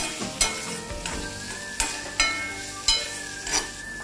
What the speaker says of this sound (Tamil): இந்த இஞ்சி பூண்டு பச்சை வாசனை போற வரைக்கும் வதக்கணும்